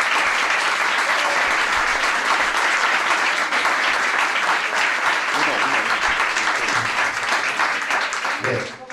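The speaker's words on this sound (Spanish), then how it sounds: "yo os pido un aplauso para que se tranquilice y se relaje" Loud, sustained audience applause at a book presentation, thick continuous clapping from a full room that holds steady for several seconds before thinning near the end, with a few voices briefly audible.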